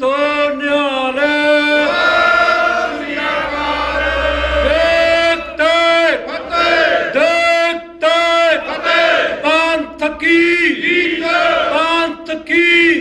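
A congregation at a Shaheedi Smagam in a New York gurdwara roars the Sikh jaikara war cry in unison, many voices rising and falling together in loud, sustained shouted phrases with brief breaks between calls.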